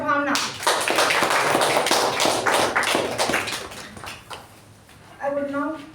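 Applause fills a Toastmasters meeting hall, a dense burst of many hands clapping for several seconds, fading toward the end as a voice begins speaking.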